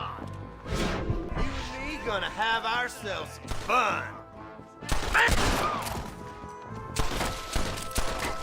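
Gunfire in Red Dead Redemption, scattered shots and bursts cracking between stretches of voices speaking over them, several sharp volleys close together in the second half.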